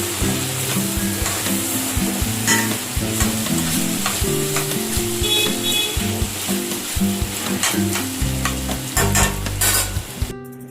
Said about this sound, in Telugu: ఉల్లిపాయలు, పచ్చిమిర్చి, క్యారెట్, బంగాళదుంప వేగిన తర్వాత టమాటా ముక్కలు వేసుకోవాలి